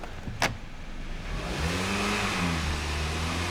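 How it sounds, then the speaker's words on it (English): A Hyundai GDI engine with low power and long crank time revs up to about 3,000 RPM and holds there, a steady mid-pitched drone after a brief click, close and continuous. "I'm just going to simply raise the engine RPM up real quick and see how these respond"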